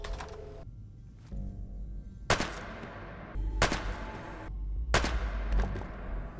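Bursts of .22 gunfire shooting ghouls in Fallout 4, three or four sharp, loud volleys spaced about a second apart, each a quick rattle of shots ringing into the room with no talk.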